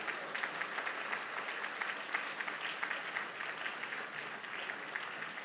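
A church congregation at a Sunday afternoon service applauds newly introduced ministers, steady, fairly soft clapping heard from some distance in the hall, continuing evenly throughout.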